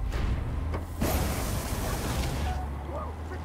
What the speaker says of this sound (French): Oh putain, vite, lance-flamme